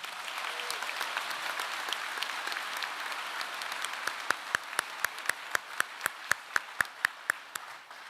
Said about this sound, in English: Let's give Jack and Mrs. Doyle one more round of applause.